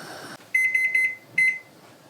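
A kitchen timer goes off after a 45-minute countdown, sounding a quick series of four sharp electronic beeps, a pause, then two more, loud and close in a quiet kitchen.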